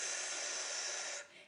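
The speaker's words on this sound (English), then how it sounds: "exhale through pursed lips like you're breathing through a straw" A steady, close breath pushed out through pursed lips, like blowing through a straw, makes a sustained airy hiss that holds evenly for over a second and then drops away, with no talking.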